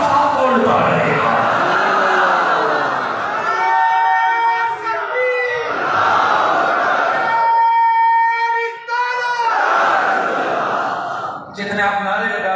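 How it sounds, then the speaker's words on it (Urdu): Crowd at a gathering honouring Shaykh Abdul Qadir Jilani chanting slogans in loud, swelling waves of many voices, with brief drops between bursts of call and response. "جتنے آپ نعرے لگا رہے ہیں"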